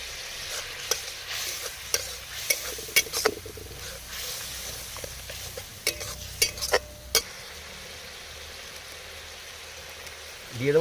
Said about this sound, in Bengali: ভাজা মশলা